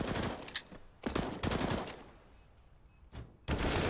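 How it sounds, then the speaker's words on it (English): FAMAS rifle fire in a professional Counter-Strike match on the Overpass map: close, loud bursts of automatic gunfire, several rapid volleys separated by short pauses. "It's the FAMAS."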